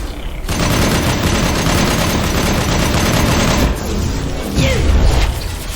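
Sustained automatic gunfire in the sci-fi shooter Mass Effect 2, a dense, loud barrage of rapid shots running nearly continuously, with a brief lull and a heavier burst near the end.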